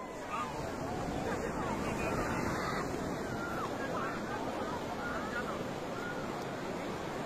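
Ocean surf rolls steadily at Radhanagar beach at sunset while people bathe, a constant wash of breaking water mixed with wind buffeting the microphone and faint crowd babble.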